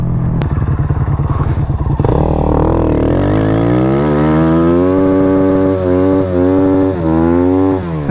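A Honda Grom motorcycle engine revs loud and close while being ridden, with the pitch climbing and dropping steadily through acceleration and a rattly, buzzy exhaust note.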